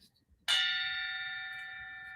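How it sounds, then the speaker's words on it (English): A single bell struck once, a vintage glass bell with mercury glass balls inside, with a sharp attack followed by a long, clear ringing tone that decays slowly, loud and close. "You could use it as a bell."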